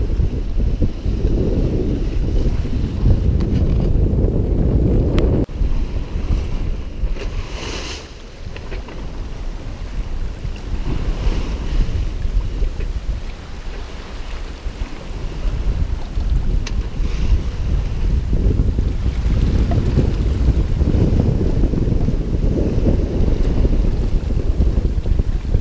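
A singlehanded sailboat on the open ocean between Sint Maarten and North Carolina, with loud, continuous wind buffeting the microphone and rushing water against the hull, rising and easing in gusts.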